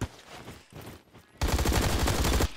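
Rapid pistol gunfire from the Roblox shooter Bad Business: a few scattered shots, then a loud sustained burst of fast, close shots lasting about a second before it cuts off.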